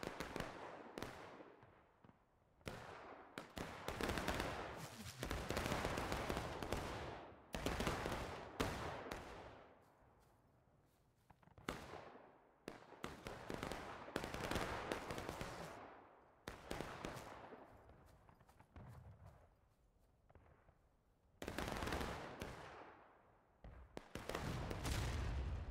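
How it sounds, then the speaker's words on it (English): Civil War musket volleys from War of Rights, the Union and Confederate lines trading fire: repeated sharp cracks and ragged bursts of gunfire, some near and loud, others overlapping into rolling volleys with short lulls between. "They're missing their shots right now."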